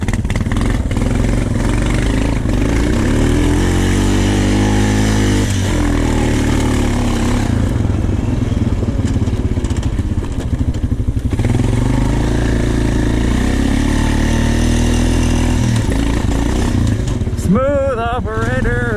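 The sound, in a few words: Honda TRX450 ATV engine revving in the snow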